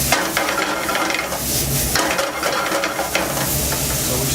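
Bacon frying in a pan for coq au vin, a steady close crackling sizzle with occasional stirring scrapes and clinks of a utensil against the pan.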